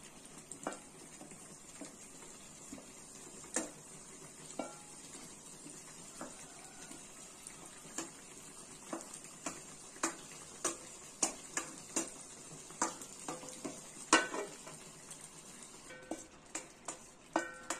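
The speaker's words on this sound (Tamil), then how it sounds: "நல்லா கிளறி விடுங்க" Bread halwa is stirred in a pan with a long run of soft, repeated spoon taps and scrapes against the metal over a faint low sizzle, growing busier toward the end.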